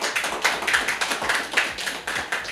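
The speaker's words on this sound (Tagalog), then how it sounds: "Yan na ba ang pinakamalakas yung palakpak sa Panginoon?" A church congregation applauds in a quick, rhythmic patter of many hands clapping together, moderately loud and continuous over a few seconds.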